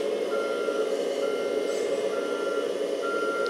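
Kabolite K3362 4x4 RC dump truck backing up, its reversing alarm repeating a steady series of evenly spaced high beeps over a constant motor whine.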